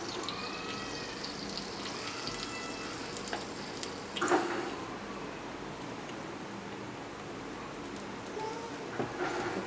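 Paniyaram batter cooking in hot Gold Winner oil in a pan, giving a steady soft sizzle and bubbling that runs throughout, with a few brief clinks and louder crackles.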